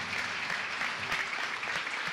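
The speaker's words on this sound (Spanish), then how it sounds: "Aplauda fuerte al Señor." Church congregation clapping loudly for the Lord during a Spanish-language sermon, a dense, steady burst of applause filling the whole stretch.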